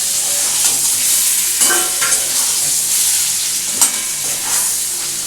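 Homemade lentil dumplings (bori) are stirred into a sizzling boal fish curry with eggplant, a loud continuous frying hiss broken by a few scraping stir strokes.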